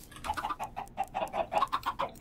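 Minecraft chickens cluck in a rapid, close run of short clucks with brief pauses, steady and fairly loud.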